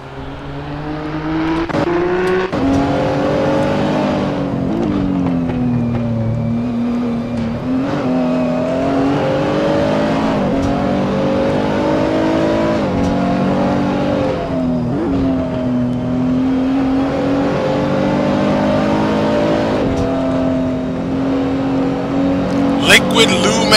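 Race cars lap the Nordschleife in a GT racing game, with a loud, steady engine drone that rises and falls through gear changes and corners. A commentator talks over the engines, and a brief crackle comes near the end.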